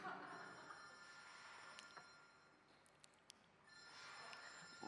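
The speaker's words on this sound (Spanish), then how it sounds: "¿Teléfono?" A telephone rings faintly in a quiet indoor room, with a few short ring bursts standing out over a low background hum.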